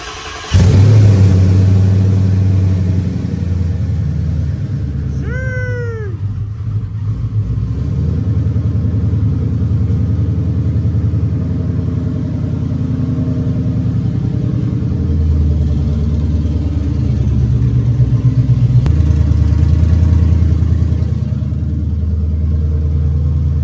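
A tuned car engine idles with a steady low rumble and revs up and down throughout, loud and close, in an enclosed space, with a brief high rising whine or squeal partway through.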